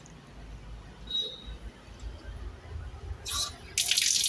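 Tap water runs into a sink where dishes are washed in a new home, with a brief hiss late on and a loud, steady burst of flowing water in the final half second over low background rumble.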